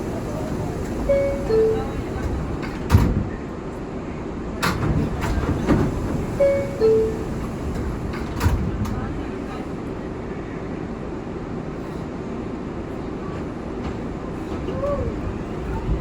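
An R142A subway car on the 6 local line rumbles along the track, with rolling clatter, sharp clicks and brief squeals. A public-address voice speaks over the steady, close train noise.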